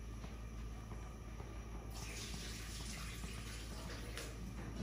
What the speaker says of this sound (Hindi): बस इसमें पानी डालूँगी, बस पानी डाल दिया है